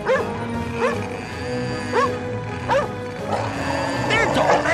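Dog barking repeatedly in short rhythmic woofs from a television episode, heard under and between excited speech in a busy mix.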